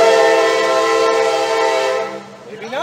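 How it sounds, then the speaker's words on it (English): A CSX freight locomotive horn blasts loud and close in one long sustained chord outdoors near a grade crossing, then cuts off and falls away toward the end. "With a wussy horn like that, it's got to be CSX."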